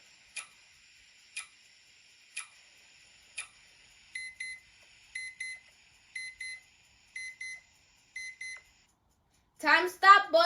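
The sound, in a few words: timer alarm going off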